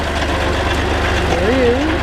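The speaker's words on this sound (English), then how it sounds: "Tractor goes by." A tractor engine rumbles steadily in the background on a rural afternoon while someone transplants pine seedlings, a low idling drone with a faint bird chirp layered over it.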